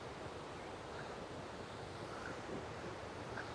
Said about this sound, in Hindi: ये है फर्स्ट वाटरफॉल